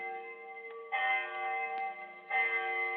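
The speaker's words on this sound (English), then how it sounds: "I remember the hour was striking." A clock bell in a radio-drama scene strikes the hour in a rainy London square, with two resonant chimes ringing out over a steady background hum, each tone decaying slowly.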